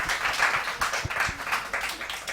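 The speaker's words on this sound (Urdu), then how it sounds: "تالیاں ہو جائیں بیٹیوں کے لیے۔" A studio audience at a television quiz show claps, a burst of close, rhythmic hand clapping that stays fairly loud and even for a couple of seconds.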